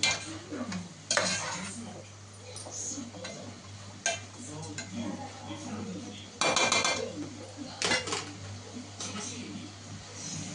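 Sugar is added to a cooking pot and stirred with a utensil, making scraping, stirring and occasional clinking sounds over a faint sizzle close by, while someone talks throughout.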